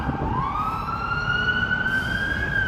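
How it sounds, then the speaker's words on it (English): An emergency vehicle siren wails on a Chicago street in December, a steady rising tone swelling loudly over traffic rumble, with no talking. "Here we got some sirens here."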